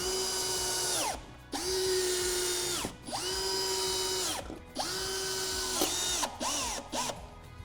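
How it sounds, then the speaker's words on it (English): A power drill drives screws to fix a VELUX roof window motor to the frame: four loud whirring bursts, each rising and then holding a steady pitch before stopping, followed by a shorter burst and quick clicks, close up with no talking. "we're going to use the 3 screws that we took out from the plate at the beginning, along with 2 additional ones supplied to secure the motor to the frame"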